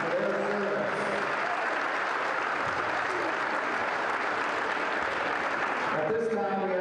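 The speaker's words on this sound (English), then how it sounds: "Please join us in a round of applause for all veterans and active duty service members." Crowd applauding veterans and active duty service members at a high school volleyball game, steady sustained clapping that fills the gym, with a faint announcer voice at the start and end.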